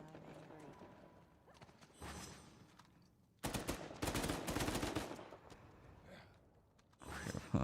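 Rapid automatic gunfire crackles in bursts during an online match of the video game Uncharted 4 multiplayer. A long, loud volley is followed by a shorter burst, with quieter background sounds before the shooting starts.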